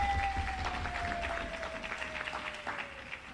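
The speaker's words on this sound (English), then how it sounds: "Let's applaud them as well" An audience claps at a credit union annual general meeting, a soft, steady patter of applause from a seated crowd heard at a distance.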